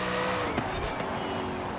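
Corvette C8 sliding sideways in a Forza Horizon 4 street race, with a continuous tire squeal over a steady engine drone that stays loud and close throughout, with a brief sharper scrub midway.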